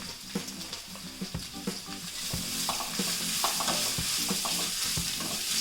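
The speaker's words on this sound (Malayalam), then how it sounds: "ഇതും കൂടെ ഒന്ന് ബ്രൗൺ കളർ വരെ നമുക്ക് ഒന്ന് ഫ്രൈ ചെയ്തെടുക്കണം. നമുക്കൊന്ന് ഇളക്കിയെടുക്കാം." Curry ingredients for a black chicken curry fry in a pan until brown, with steady broadband sizzling and repeated close scraping strokes of a spoon stirring, fairly loud throughout with no voices.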